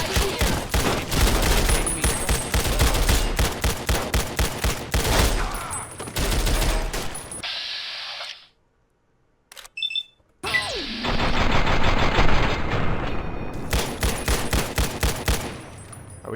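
Gunfire in the video game Fallout New Vegas bursts out in rapid, loud volleys, then cuts to near silence for a couple of seconds before another dense stretch of shooting.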